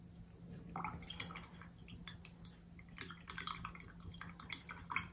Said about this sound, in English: So I'm going to rinse my brush again.